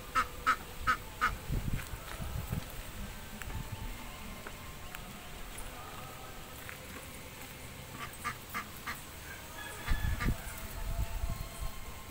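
Several farm birds honk and gobble in short bursts at a distance, with a couple of louder calls near the end, heard over an open outdoor rural setting at a coconut farm where turkeys roam.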